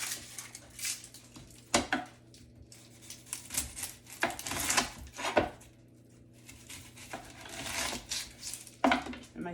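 Knife chopping half an onion on a board, with irregular close knocks and scrapes spread through the clip and no talking.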